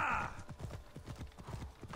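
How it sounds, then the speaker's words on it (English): Rapid rhythmic clip-clop of horse hooves at a gallop in the video game Assassin's Creed Odyssey, fairly close, with a brief whinny-like sound at the very start. "Let's go, horse."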